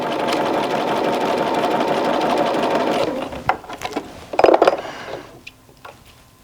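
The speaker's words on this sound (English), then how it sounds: "I tuck that little bit of orange up underneath and I use the awl to hold it in place as I sew down" A domestic sewing machine stitches down a quilt block in a fast, steady mechanical whir for about three seconds, then stops, leaving scattered clicks, knocks and handling noises close by.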